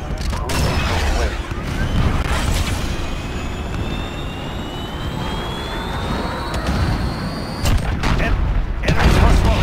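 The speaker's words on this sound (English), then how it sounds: "Cruise missile away." A cruise missile streaks in during a Modern Warfare match, with a loud jet-like roar and rising whine sweeping across the sky over a constant wash of battle noise and booming impacts.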